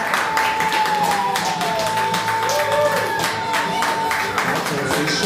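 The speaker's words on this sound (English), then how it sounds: "give a big round of applause to our co-host" Crowd applause at a comedy show greets the co-host, with scattered, rhythmic claps and cheering while a voice talks through it.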